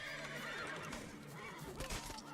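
The horse Roach in the fantasy video game The Witcher 3 lets out a faint neigh over a dense wash of game noise, with hoofbeats faintly audible under a voice.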